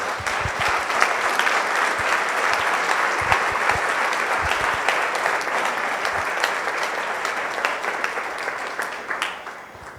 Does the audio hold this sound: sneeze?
no